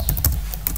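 Rapid keystrokes on a computer keyboard while entering a futurerestore terminal command for an iPhone downgrade, several sharp close clicks in quick bursts, no talking.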